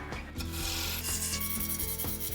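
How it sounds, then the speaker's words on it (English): A roughing gouge cuts a spinning wood blank on a lathe while shaping a rolling pin, producing a continuous close rasping, rubbing scrape with a slight rhythmic pulse from the rotation. "So we go straight to the roughing gouge next."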